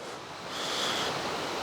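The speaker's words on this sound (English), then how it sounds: "Look, that's Lake Michigan, everybody. Look at that. Oh, there's a lot of waves." Waves on Lake Michigan wash in as a steady broadband surge with some wind rumble, swelling slightly louder partway through a brief moment.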